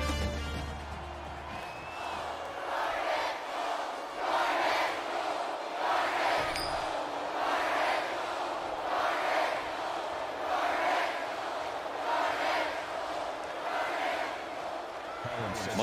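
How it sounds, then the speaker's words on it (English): Huge stadium crowd at a college football game, Alabama at Florida State, roaring and chanting in rhythmic surges before kickoff, loud and continuous from a distance. "you can feel the thunder in the crowd as they await the start of this game"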